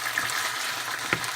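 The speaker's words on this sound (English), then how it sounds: "as you can see, my drumsticks are frying" Chicken drumsticks fry in oil for biryani, giving a close, steady sizzle with a brief clink or stir near the end.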